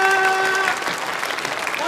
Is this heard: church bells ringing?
no